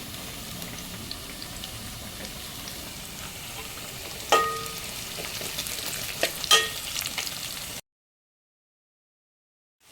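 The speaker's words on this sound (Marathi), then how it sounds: "आता कांदा फ्राय झालेला आहे, तर आपण आता त्याच्यात मिरची टाकून घेऊया।" Green chillies frying in hot oil with already-browned onion give a continuous sizzle with a few sharp crackles and clinks of a spoon, close and even, then sudden silence.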